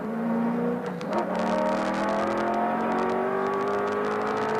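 Racing car at the 1993 Bathurst 1000, a limping touring car nursing its gears back to the pits, engine whining and shifting pitch as revs rise and drop, loud and fairly close, with broadcast crowd and track noise behind.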